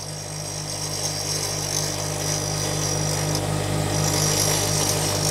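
A bench grinder wheel is dressed with a dressing tool to balance it and true it round, a continuous steady motor hum with a bright gritty hiss of the dresser against the abrasive that swells slightly toward the end.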